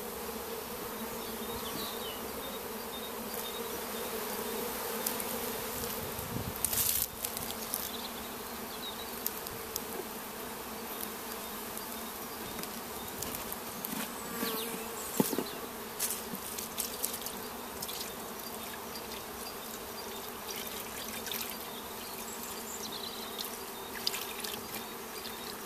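Honey bees buzz steadily around a hive feeder filled with sugar syrup, a dense continuous drone of many insects with brief louder passes close by, and no voices.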